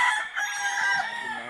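A purebred imported gamecock rooster crows loudly and close by, one long strained crow filling the moment with no talk over it.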